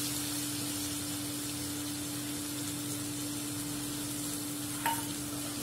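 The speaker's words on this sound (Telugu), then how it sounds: "ఆ తర్వాత టమాటా జ్యూస్ కూడా వేసేస్తున్నాను." Tomato juice cooks in a hot pan for a chickpea kurma, giving a soft, steady sizzle and hiss at low volume, with a faint, constant hum underneath and no speech.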